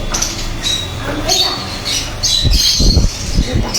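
Pet parakeets, a Lutino and a Blue Opaline among them, ring out harsh squawks and chirps repeatedly, with a burst of louder, closer calls near the end, while people talk in the background.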